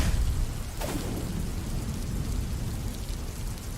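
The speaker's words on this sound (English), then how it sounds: "The good old thunderstorm noise." Thunderstorm sound effect: a steady wash of heavy rain with a deep rumble, and a brief sharp crackle of thunder early on before the rain continues evenly.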